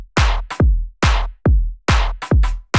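Swung bassline-style drum groove: booming kicks with offbeat snares landing slightly late, giving a loose, bouncy rhythm, loud and up close.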